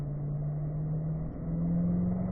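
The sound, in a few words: car accelerating up to fourth gear on a race track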